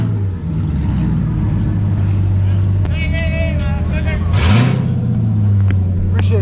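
A Whipple 2.9-supercharged Camaro SS on E85 with a 10-speed idles alongside a 2014 Shelby GT500 with bolt-ons at a drag race, a loud steady engine drone with a brief rev, under nearby voices.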